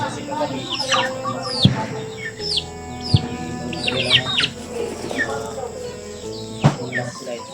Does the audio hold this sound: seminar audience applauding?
no